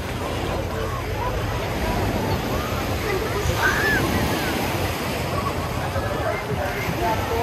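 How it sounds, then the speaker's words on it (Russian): Sea waves wash continuously onto a crowded beach at Sudak in Crimea, a steady broadband surf roar with wind on the microphone and a faint murmur of the crowd underneath. "Волны прям вот сюда доходят, практически до лежаков."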